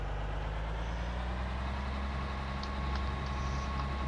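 Tractor engine in the video game Farming Simulator 2013, a low steady idling rumble with a faint rising whine, brief clicks near the end, and no voices.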